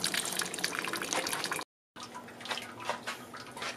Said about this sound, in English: I got the pump on so I can recirculate my wort.